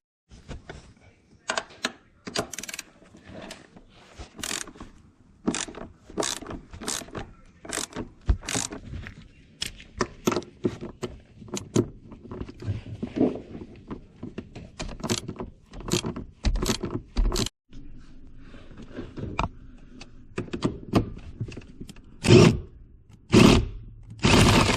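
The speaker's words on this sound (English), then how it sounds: "So here I'm doing the driver's side and bolting all the bolts." A hand ratchet driving the seat bolts on a Porsche 991 GT3 bucket seat, with rapid clicking bursts repeated many times, close and crisp, with brief pauses between runs and no talk.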